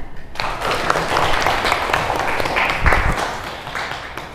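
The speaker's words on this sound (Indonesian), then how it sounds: "Tepuk tangan." Applause in a classroom teaching session, a lively round of close clapping that starts abruptly and carries on with uneven sharp hand strikes before tapering slightly.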